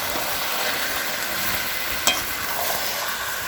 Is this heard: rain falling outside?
no